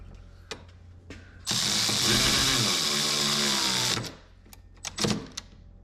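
A fastener on the steering cable of a 2023 jet ski being tightened, a loud steady mechanical ratcheting burst lasting a couple of seconds, framed by a few sharp metallic clicks before and after.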